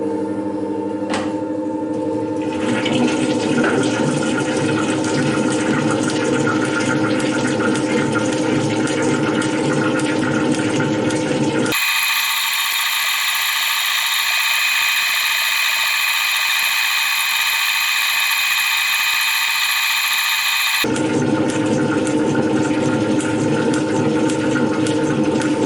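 A metal shaper cuts gear teeth in a light trial pass, giving a steady, loud mechanical grinding and rumbling with a harsher, higher whine in the middle stretch before the original cutting noise returns.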